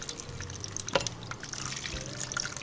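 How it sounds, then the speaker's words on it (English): Water is poured into an artichoke sitting in an Instant Pot pressure cooker, making a soft close trickle and splash with a brief louder gush near the start. "Now presently it's got 2 cups of water. I'm going to pour some inside of the artichoke."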